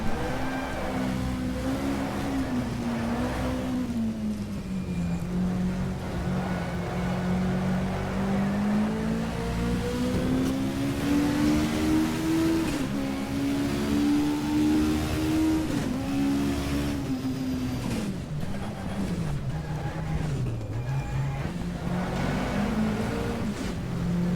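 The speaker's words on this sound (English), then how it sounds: "using the second gear here to slow down the car without braking too much" A WTCC 1987 touring car in GTR2 at the Nürburgring drones steadily close by, its engine pitch rising and falling as it shifts down to second gear and revs through corners, with no talk over it.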